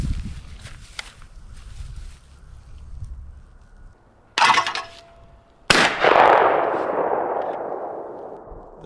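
A Stoeger M3020 semi-automatic shotgun fires during break-in, with one loud close blast ringing out and decaying outdoors, preceded by quieter handling clatter and a sharp metallic clack.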